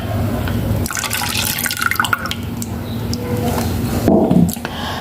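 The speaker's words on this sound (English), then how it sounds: "So I will be pouring the coconut milk" Coconut milk pours into a saucepan for couscous, a close liquid splash and trickle with a brief heavier gush near the end, over faint background noise.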